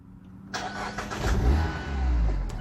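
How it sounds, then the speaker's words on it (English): A 2019 Mazda MX-5 RF 30th Anniversary Special Edition starting by push button: a sudden crank catches into a close, rising engine rumble that settles and swells again. "So I'm going to go ahead and start the car up."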